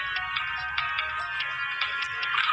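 Phone notification ringtone in a cute fish cartoon: a bright, continuous electronic melody with repeated chiming pulses, steady and fairly loud with a low hum beneath, no voices.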